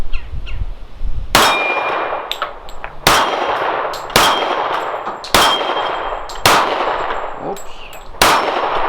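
Shots from a Colt .45 Lightweight Commander pistol ring off steel targets, seven sharp loud bangs each followed by a metallic clang, fired at a steady, slightly uneven pace about one per second.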